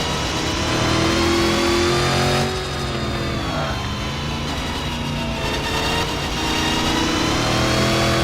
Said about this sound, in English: Have a listen to that engine.